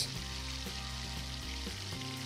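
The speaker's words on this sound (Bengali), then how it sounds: "এরপর ওই একই তেলে দিয়ে দেব টুকরো করে কেটে রাখা পেঁয়াজ।" Chopped onions sizzling in hot oil in a pan, a steady, dense frying hiss with small pops and crackles throughout, close and continuous with no talking.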